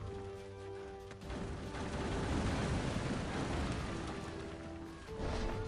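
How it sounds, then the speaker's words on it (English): A Greek fire explosion in the strategy game Kingdoms and Castles bursts into a long, loud crackling roar that rolls on for several seconds and then swells again near the end. "That was a big ass explosion"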